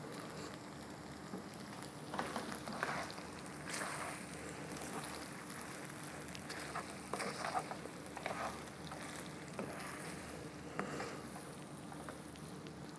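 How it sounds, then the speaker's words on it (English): Stir fry pasta simmering in a pan over lowered heat, a steady soft bubbling and sizzling hiss with faint crackles throughout, no talking. "we'll turn down the heat and just let that simmer for a while"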